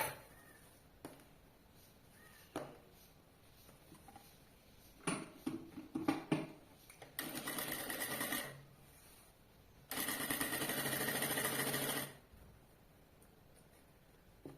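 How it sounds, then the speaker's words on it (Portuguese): A sewing machine stitches a bag lining in two steady runs, one shorter and one longer, with soft clicks and fabric handling between them at moderate loudness. "Agora eu vou costurar do outro lado"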